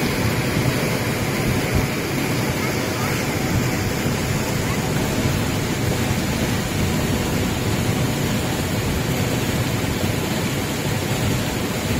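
Water spilling over the spillway of Muttarasikuppam lake, with floodwater overflowing the tank, makes a steady, unbroken rushing roar. It stays close and loud throughout with no pauses.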